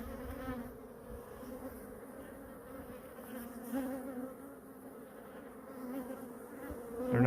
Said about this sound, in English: those bees came right out of there